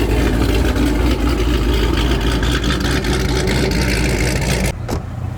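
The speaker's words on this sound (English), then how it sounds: "Got the 448 stroker scat pack rolling up." Loud, steady rumble of a 448 stroker Scat Pack engine rolling through a car show, a deep idling drone that holds for several seconds and then drops off abruptly near the end.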